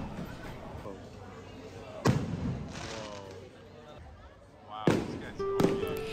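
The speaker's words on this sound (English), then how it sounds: "we also saw the most elaborate fireworks show" A fireworks show exploding close by in Nerja, Spain, with a few sharp, loud bangs spaced apart, each followed by crackling and echo, over a quiet murmur of people talking.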